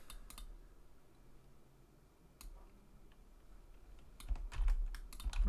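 Keys on a computer keyboard click while someone copies in Unreal Engine. A few sparse taps come first, then a quick, close burst of clicks near the end.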